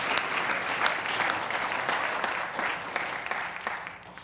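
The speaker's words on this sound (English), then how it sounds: "Please give our five a round of applause." An audience at a spiritual talk breaks into sustained applause, a dense, even patter of many hands clapping at moderate distance, continuing steadily for several seconds and tapering slightly at the end.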